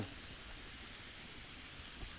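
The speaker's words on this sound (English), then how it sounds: "because it starts steaming and those fumes can get to you" Broth and Tabasco steam in a hot pan on a kitchen stove, giving a steady, even hiss with no pauses that stays at the same level throughout.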